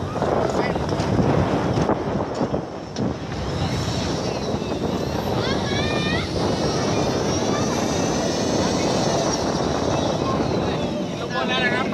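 A remote-controlled model seaplane drones overhead in strong wind, its buzzing engine rising and wavering against heavy wind rumble on the microphone, while people talk throughout.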